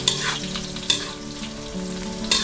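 Shredded kale leaves fry in hot oil over medium heat, a dense continuous sizzle with stirring scrapes and occasional sharper bursts of crackle, close and loud with no talking.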